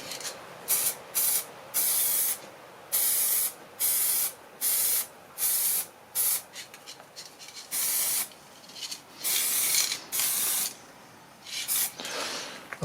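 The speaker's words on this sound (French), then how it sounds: "Donc je vais mettre de la bombe à haute température." High-temperature spray paint hissing from an aerosol can onto an exhaust manifold from an Audi A3, in a series of short, even bursts with brief pauses between them, close and fairly loud.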